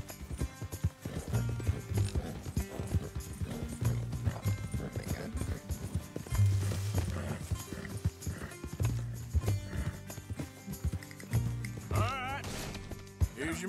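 Horse hooves clip-clopping at a walk in the Western video game Red Dead Redemption 2, a steady rhythm of hoofbeats under game music and ambient sound.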